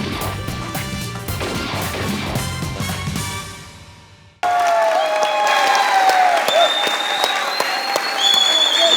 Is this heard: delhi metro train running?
no